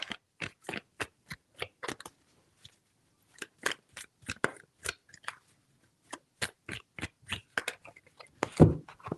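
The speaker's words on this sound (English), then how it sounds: "Three shuffles." Tarot deck shuffled by hand in a quiet room, a series of crisp riffling card flicks in bursts with a short pause partway, close and fairly soft, ending in a louder slap of the cards.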